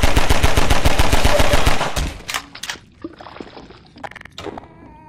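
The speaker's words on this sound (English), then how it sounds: "I'll get my pistol out." Rapid, loud gunshots ring out in Half-Life 2 Episode 2, a fast string of sharp cracks for about two seconds, followed by scattered thuds, clatter and quieter game sounds.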